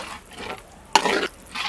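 Short bursts of scraping and swishing as a spoon stirs thick egg curry in a pan, with a louder clatter in the middle.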